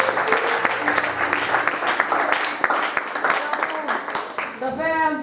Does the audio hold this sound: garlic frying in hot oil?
no